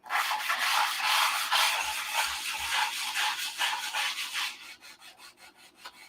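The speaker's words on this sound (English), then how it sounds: "So I'm just sanding this." A 1/2A Cobra model wing of balsa wood is hand-sanded, producing steady, close rhythmic rubbing strokes that slow and thin out toward the end, with no talking.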